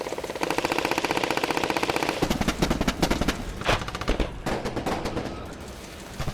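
Sustained automatic gunfire in the survival horror video game Resident Evil 7, loud and continuous with rapid rattling shots, then a few separate bursts near the end.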